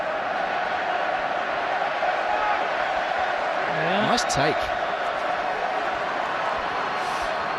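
A rugby stadium crowd at a Wales versus Argentina match applauds in a steady, broad wash of sound, with a commentator speaking briefly over it.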